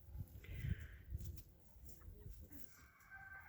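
Swedish Flower Hen pullets cluck softly in short bursts close by, with a faint higher call drifting in and out against quiet farmyard background.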